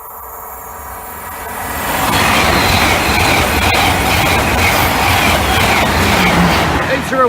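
A train rumbles loudly through the Egmanton level crossing, the noise building over a couple of seconds into a sustained close roar with rattling wheels and a squeal near the end.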